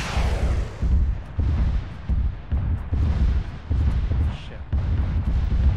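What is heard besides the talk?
MLRS rocket artillery strikes in Arma video game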